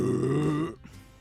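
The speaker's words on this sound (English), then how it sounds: "Got a big burp coming." A big, deep burp after drinking, one close, loud, droning belch lasting most of a second before fading into quiet.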